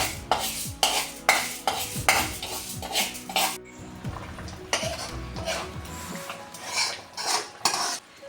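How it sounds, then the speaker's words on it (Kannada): Fenugreek and cumin seeds dry roasting in a pan without oil, with repeated metal spatula scrapes and clinks against the pan in an irregular rhythm, close and fairly loud, no talk. "ಅದಕ್ಕಿನ್ನು ಒಂದು ಚಿಟಿಕೆ ಮೆಂತ್ಯ ಮತ್ತು ಒಂದು ಚಿಟಿಕೆ ಜೀರೆಯನ್ನು ಹಾಕಿ ಒಟ್ಟಿಗೆ ಹುರಿಬೇಕು."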